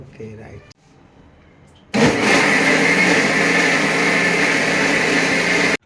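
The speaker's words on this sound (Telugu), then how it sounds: "మిక్సీలో వేసుకుందాం." Mixer grinder blending soaked poha with water into dosa batter: after quiet handling noises, the motor starts abruptly and runs with a loud, steady whirring roar until it cuts off.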